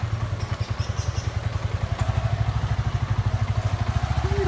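A Yamaha R15 V3 motorcycle pulls away under gentle throttle with a learner at the controls, its engine a close, steady rhythmic low thumping that grows slightly stronger after a couple of seconds.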